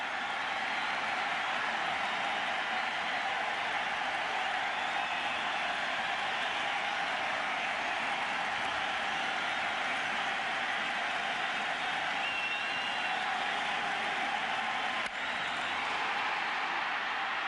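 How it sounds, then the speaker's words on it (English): A baseball stadium crowd at a 2004 Yankees vs Red Sox game keeps up a steady, distant roar of cheering that holds evenly throughout without a break. "The crowd's back."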